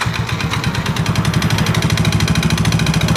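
A motorcycle engine that ran out of oil runs rough and close by, its loud, uneven pulsing throb continuing without a break.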